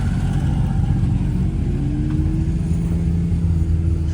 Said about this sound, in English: I'm sure that's a Wisconsin engine of some sort.